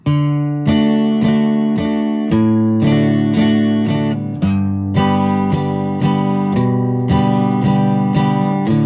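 Close acoustic guitar alternating single plucked bass notes with strummed chords in a repeating rhythm, loud and clear with no talking.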